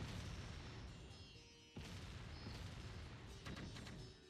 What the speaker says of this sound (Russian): вражеская артиллерия бьет